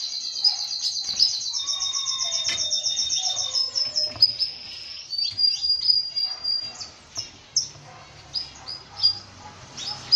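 A caged canary chirps and trills in high, bright phrases, alternating sustained whistled notes with quick tweets, close and clear with no talking.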